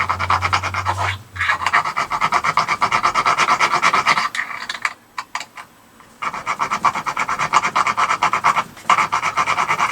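Rasping strokes of a round file on metal while cleaning up the rear wheel bearing area of a 1983 Yamaha RS125DX motorcycle, repeated close-up back-and-forth scraping with a brief pause midway.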